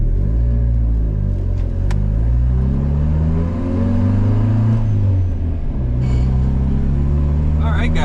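A turbocharged Honda D-series car engine starts and settles into a steady, loud idle with low rumbling harmonics, up close and continuous throughout.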